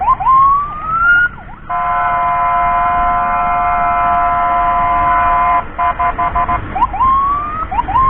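An emergency ambulance siren blares loud and close on an escort run, switching from a rapid yelp to a long steady multi-tone wail, then back to short whooping yelps.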